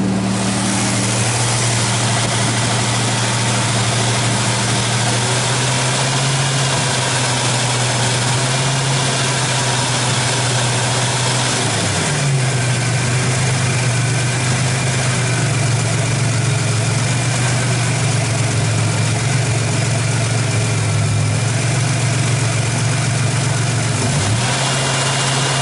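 A freshly rebuilt 1986 Buick Grand National engine idles steadily at close range near 1800 RPM, a low even hum with a slight dip in pitch near the middle and again near the end.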